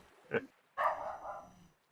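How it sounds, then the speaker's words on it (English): A dog barks twice indoors, a short sharp bark followed by a longer drawn-out one, moderately close with quiet between. "I'm going to go away and see what my dog's barking at."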